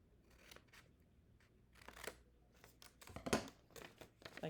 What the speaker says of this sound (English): And you just cut to the middle.